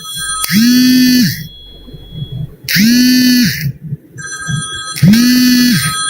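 A telephone rings loud and close in three separated bursts, each a bright trilling ring about a second long with pauses between, no speech.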